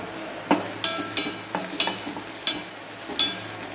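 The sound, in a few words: onion and tomato frying in a pan for green bean bhaji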